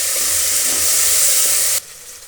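Vegetables hit hot oil in a pan with onion and tomato already roasted, giving a loud, close, continuous sizzle that cuts off abruptly near the end, leaving a quieter hiss.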